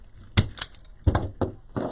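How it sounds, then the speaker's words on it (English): Zip tie ends being snipped off on a wreath board, a few sharp, close cutting clicks in an irregular sequence. "so you cut your zip tie ends off"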